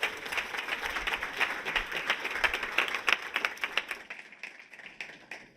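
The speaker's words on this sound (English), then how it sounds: "Let's give him a round of applause." An audience at a Black tech ecosystem event claps for a speaker, the applause rising, holding briefly, then thinning to a few scattered claps before fading out.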